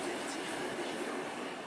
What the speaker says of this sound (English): The train winds through the mountains.